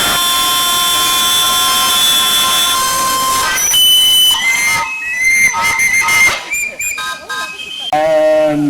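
A loud, steady steam whistle from a miniature traction engine blows for several seconds, followed by a series of shorter, varied whistle blasts over background crowd noise at a rally at Bressingham Steam Museum.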